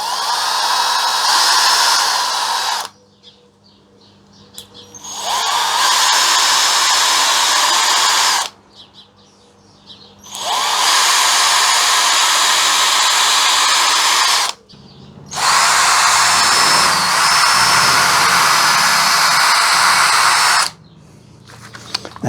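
A small power drill bores holes into the trunk of a field maple bonsai, four loud whirring bursts of several seconds each separated by short quiet pauses, close up with no talk.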